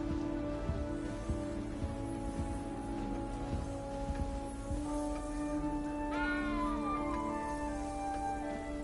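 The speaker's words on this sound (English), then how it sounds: "You don't need to be frightened, little cat." A cat meows in the video game Hogwarts Legacy, a short rising and falling mew heard over a steady layered music and ambient game background.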